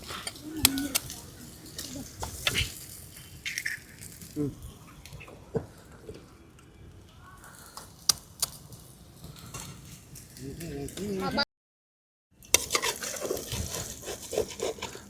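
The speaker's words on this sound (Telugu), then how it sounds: "ఫ్రెండ్స్ ఇప్పుడైతే ఎగ్స్ వేసుకుందాం" Eggs are stirred into rice in a pan for egg fried rice. Quiet, intermittent spatula scrapes and clinks sound over a faint sizzle, a voice speaks in the background, and there is a brief gap of silence near the end.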